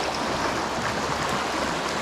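A swollen creek running high and swift after heavy rain, a steady broadband rush of water close by that fills the whole moment without pause.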